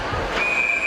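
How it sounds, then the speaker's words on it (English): A referee's whistle at an ice hockey game gives one sharp, piercing blast that enters midway and holds steady, over the hollow noise of the rink. "Early whistle. Puck was still out."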